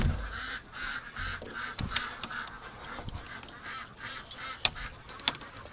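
Ducks, including Muscovies, calling outdoors on a windy winter day, scattered quacks and honks with sharp intermittent peaks over blustery background noise, fairly faint overall.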